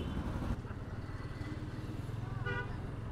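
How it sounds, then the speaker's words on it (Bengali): A motorcycle riding through the busy town of Mymensingh, its engine a close, steady low rumble with rhythmic pulsing, joined by a short horn toot from the traffic around it. "আর আমি এখন যাব হলো আমার এই বাইকটা নিয়ে।"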